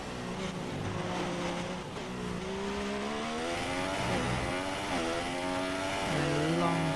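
Race car engine in the F1 2017 video game, a high-pitched whine rising and falling through gear changes and downshifts, continuous and close, no talk.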